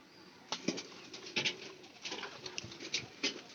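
A pigeon flapping its wings in a series of short, close fluttery bursts spread across a few seconds, moderately loud over a quiet background.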